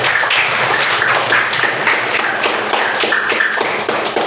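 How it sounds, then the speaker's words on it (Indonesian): Classroom applause for classmates who passed, a steady wash of many hands clapping close by for several seconds without pause. "kita beri tepuk tangan untuk teman kalian yang sudah lulus"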